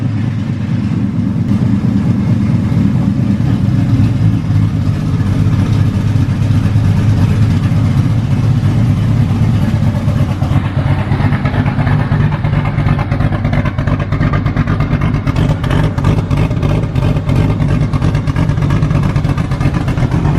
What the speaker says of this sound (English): the Vic's finally back up and running on the built motor, sounding great